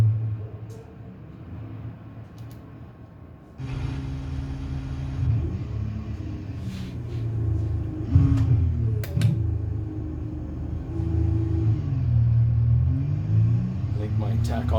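A car engine in a racing simulator game builds in a low rumbling drone, with rising and falling pitch sweeps as it revs, while someone talks over it.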